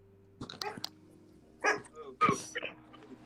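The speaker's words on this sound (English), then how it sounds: "the dog bark louder than you talk" A dog barks in short bursts: a quick cluster of yaps, a pause, then two louder barks, close to the microphone against a quiet background.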